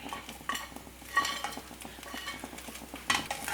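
Fried cauliflower goes into gobi fried rice in a pan over high flame, bringing quiet stirring scrapes, spoon clinks and a light sizzle, with sharper clatters at a few moments and no talking.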